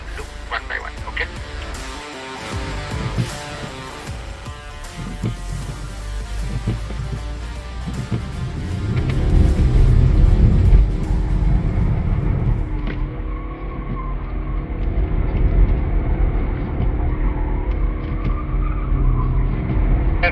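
A BMW M5 drifts on a race track, its engine roaring and tires squealing loudly and steadily, building in intensity midway, with people talking over the noise.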